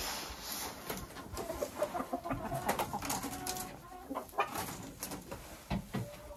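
Laying hens cluck and murmur in a poultry yard, with a soft, continuous run of short, overlapping clucks at mid distance, fairly quiet throughout.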